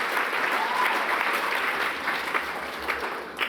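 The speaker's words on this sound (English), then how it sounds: "I think we need to give him another round of applause for how deadly that was" Sustained, dense audience applause fills a hall at a Tarwirri event, steady and loud throughout with a few sharper claps and faint voices mixed in.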